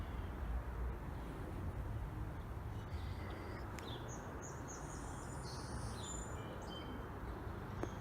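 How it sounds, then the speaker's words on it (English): Faint birdsong chirps and trills drift in from a distance in a spring garden in May, over a steady outdoor rumble, scattered calls mostly in the second half. "Can you hear the birds?"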